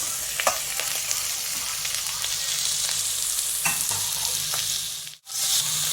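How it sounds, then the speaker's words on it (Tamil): Steady sizzling of tomato, curry leaves, carrot and beans sautéing in a pan, with occasional scrapes and clicks of stirring, close and continuous with no talking. "இது நல்லா வதங்கட்டும்"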